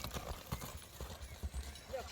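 Horse galloping, a faint quick run of rhythmic hoof clip-clops on the ground, distant and low, with a voice heard faintly around it.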